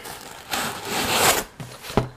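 Foam padding scrapes and rubs as it is pulled out of a Herschel Supply Company 13-inch laptop sleeve, in several short rough swipes that end in a couple of faint thuds, close and fairly quiet.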